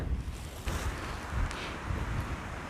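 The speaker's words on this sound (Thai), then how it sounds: "ลมแรงจริง ๆ" Strong seashore wind roars and buffets the microphone in rough gusts, with surf washing underneath in a constant, full noise.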